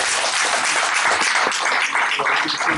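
A church congregation at a worship service applauds together in dense, loud, continuous clapping that fills the whole stretch without letting up.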